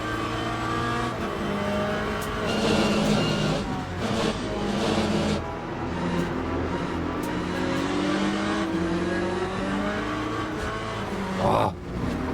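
A Corvette Z06 LMGT3.R race car lapping Spa in a racing video game, its engine revving and shifting through gears in rising and falling sweeps, loud and continuous with a brief squeal near the end.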